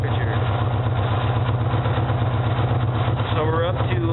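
A 2004 Yamaha Warrior ATV engine idles with a steady, throbbing low pulse, loud and close, while someone talks over it throughout.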